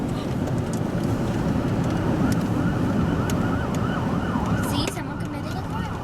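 Ambulance siren wailing in the distance amid a bustling outdoor crowd at San Diego Comic-Con, its rising and falling tone faint under steady street noise and chatter.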